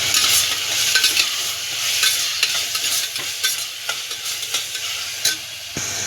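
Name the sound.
boneless chicken being stirred and fried in a pan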